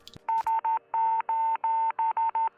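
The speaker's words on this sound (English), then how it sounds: "the brothers intercepted an SOS Morse code distress signal from a cosmonaut orbiting" Morse-like SOS distress signal said to come from a cosmonaut orbiting Earth, heard as a clear, steady electronic tone in nine beeps, short and longer ones in groups of three, loud and alone with no talking.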